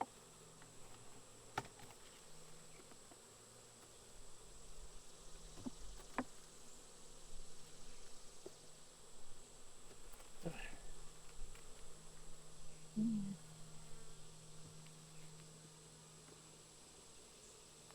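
A faint, steady drone of honey bees buzzing around hive frames while honey is being pulled, with occasional closer passes and soft handling noises.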